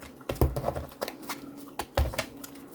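Tarot cards being shuffled in short bursts of riffling and tapping, a few quick clusters of crisp card flicks with brief pauses between them, close and fairly quiet.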